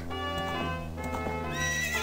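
Epona, the horse in Zelda: Ocarina of Time, gives a clear, close neigh with a rising and falling whinny over about two seconds, with faint hoof clip-clop underneath and no voices.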